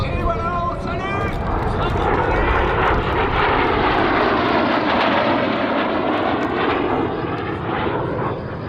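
An F-86 Sabre jet performs its display at the Gap-Tallard air meeting, a loud, sustained close roar of the jet engine that swells and holds across the pass, with a faint voice underneath.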